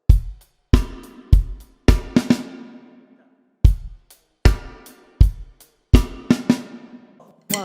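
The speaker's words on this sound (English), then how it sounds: "Another variation that sometimes hear in the song is where there's 2 snares on the 4-ender" A drum kit plays a groove variation with a doubled snare hit on beat four, sharp close strikes and ringing cymbals repeating in a steady pattern with brief gaps, no talking.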